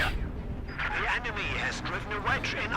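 Explosions and artillery barrages from field guns boom and crackle in a Company of Heroes 2 multiplayer match, several bursts in quick succession under continuous game commentary.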